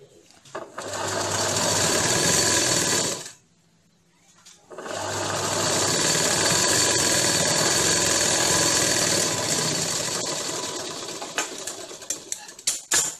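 A sewing machine stitches the joint of a dhoti shalwar in two long, loud, steady runs split by a brief pause, then trails off into a few short taps at the end.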